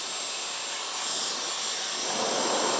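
A Dyson Supersonic Nural hair dryer runs in its regular drying mode with no attachment fitted, giving a steady, close, airy roar with a bright high whine that swells slightly louder toward the end.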